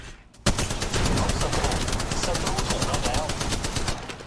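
Rapid automatic gunfire in the mobile shooter Apex Legends Mobile rattles out in a sustained loud burst that starts abruptly and runs for several seconds, a dense stream of close shots with a voice faintly behind.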